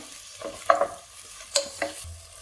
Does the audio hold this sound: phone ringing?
no